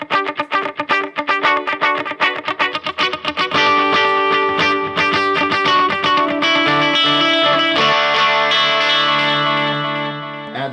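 Electric guitar played through a digital amp modeler, Strymon Iridium or Line 6 Pod Go, with a little delay added, loud distorted chords and picked notes ringing out with echo trails and sustained tails.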